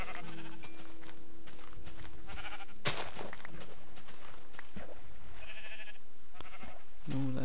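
Sheep bleat repeatedly in the Minecraft video game. Short nasal calls come through a busy mix of game sounds and clicks.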